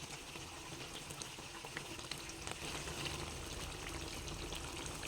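Bhola fish curry in a pan, gravy bubbling and sizzling steadily after a little water is added, a quiet, continuous simmer heard close up with faint scattered pops.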